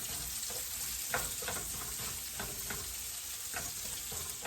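Onions caramelizing in a pan with bay leaves and thyme give a dense, continuous sizzle, with periodic scraping stirs roughly every half second to second, close and fairly loud.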